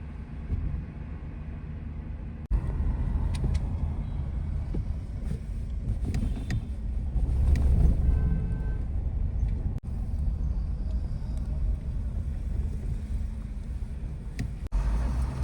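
A car cruising along a highway, with steady road and engine rumble and wind buffeting the microphone throughout, a few brief dropouts, no talking.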